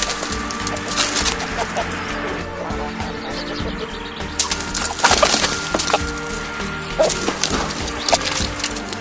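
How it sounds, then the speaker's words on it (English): A Rhode Island Red cockerel scuffles among Light Sussex hens, with close clucking, wing flaps and sharp scraping clatter in bursts over a steady background hum. "This is Rory, the Rhode Island Red Cockerel, just showing the girls who's boss."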